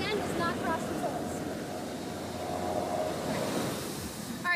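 Ocean waves wash onto a beach in a steady, broad roar of surf, with wind rushing across the microphone and a swell rising toward the end.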